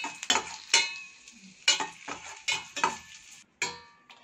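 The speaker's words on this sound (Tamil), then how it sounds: "அடுத்து இந்த திராட்சையும் பொறிச்சு எடுத்துக்கலாம்." Raisins fry in hot ghee for aval payasam, with close, repeated scraping stir strokes and clinks over a soft crackling sizzle, no talking.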